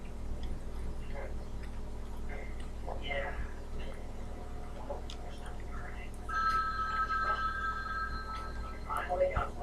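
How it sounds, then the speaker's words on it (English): A telephone rings in a house scene from the 1978 horror film Halloween, its steady electronic trill starting partway through over a low hum and quiet background voices. "I love how Lindsay doesn't hear the phone ringing right next to her"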